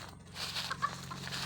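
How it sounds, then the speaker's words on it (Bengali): Free-range local chickens, a flock of about 150 laying hens on a farm, cluck in short, close, moderately loud calls over a steady low background hum. "এখানে মুরগিগুলো আমরা ছাড়ে রাখি দেশি"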